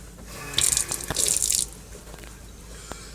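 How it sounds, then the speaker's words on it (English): Hands being washed under a running kitchen tap, with two short bursts of splashing water close by over a faint steady background, then quiet dripping. "I better wash my hands after that."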